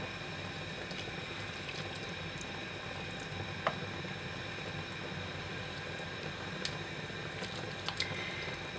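A pot of classic Ukrainian borscht simmers quietly, giving a low, steady bubbling hiss with occasional faint pops and ticks, heard alone without talk.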